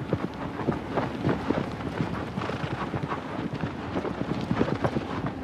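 Horse hooves galloping in Shadow of the Colossus, a steady rapid clip-clop of hoofbeats with skidding scrapes, fairly close and continuous, with wind rushing underneath.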